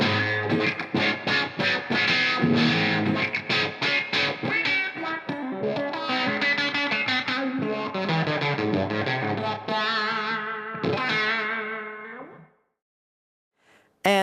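Electric guitar played through a Morley Lynch Keiko wah pedal: a fast run of loud, sweeping wah-filtered notes and chords, then a sustained chord fades out into near silence and a final pluck.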